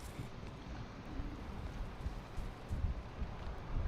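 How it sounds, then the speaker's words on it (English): Steady rain falls in a survival video game on hard mode, a dense, even hiss with low rumbling texture throughout and no voices. "Well, I wanted light and I got rain."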